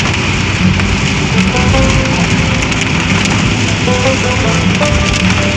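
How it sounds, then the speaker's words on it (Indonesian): Steady rain falls in a dense, continuous hiss that holds at an even, fairly loud level throughout, with no voices. "Apalagi kalau kondisi sekarang hujan-hujan seperti ini"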